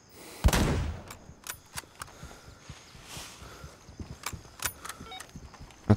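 Sniper rifle gunshots in the Gray Zone Warfare video game, set in a jungle: a loud close crack followed by scattered sharper shots and distant pops over steady ambient background noise.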